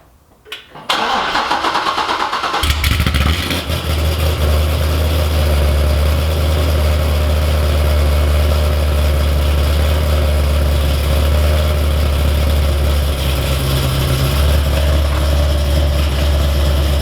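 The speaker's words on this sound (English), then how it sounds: "So I'm going to fire up the car and get out of the shop." A Corvette C6 Z06's LS7 engine cranks and catches after a brief quiet moment, then settles into a steady, deep, loud idle that continues to the end, inside a shop.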